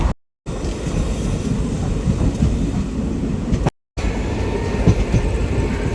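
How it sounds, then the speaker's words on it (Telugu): Unreserved passenger train 57302 running from Medak to Kacheguda, a steady close rumble of wheels and carriage noise throughout, cut by two brief silent gaps. "ప్రస్తుతం మన ట్రైన్ ఈ స్పీడ్లో ప్రయాణిస్తోంది"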